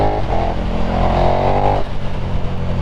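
A 2022 K-model motorcycle engine with Racetorx throttle spacers fitted drones loudly and steadily under load, its pitch easing as the rider rolls off the throttle to brake into a corner, then picking back up as the power comes back on.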